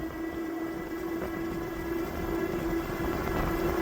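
A CyCrown CycHunter e-bike motor pulls up a steep hill on throttle alone, a steady electric whine holding one pitch over continuous rolling and wind noise, close and constant throughout.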